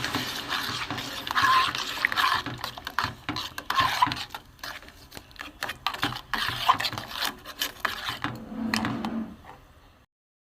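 Packet milk and sugar stirred in a pot to dissolve: continuous rubbing and scraping strokes in a loose rhythm, close and moderately loud, ending in silence.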